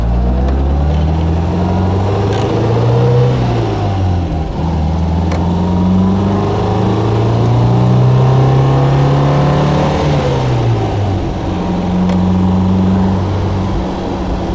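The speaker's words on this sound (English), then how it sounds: "The engine really revs nicely, very smooth." A 1962 MG A 1600 MKII roadster's engine revs up and settles repeatedly, a smooth, steady burbling drone with rising and falling pitch that runs loud and close throughout, with no talk over it.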